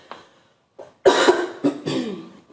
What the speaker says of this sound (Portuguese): a pessoa tossiu